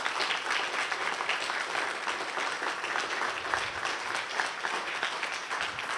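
An audience at a community event for a state representative claps in sustained, steady applause, a dense wash of hand claps heard alone without talk.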